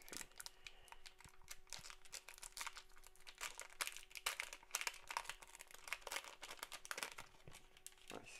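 Pokémon card box packaging being opened: close, quiet crinkling and tearing of plastic and foil wrappers in irregular bursts, with faint clicks and no talk.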